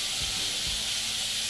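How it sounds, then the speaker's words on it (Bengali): Chopped, washed mixed rooftop-garden greens hit a hot pan of oily fried shrimp, giving a steady bright sizzle and hiss throughout, with a couple of soft low thumps near the start. "এখন আমি কেটে ধুয়ে রাখা শাক দিয়ে দিব।"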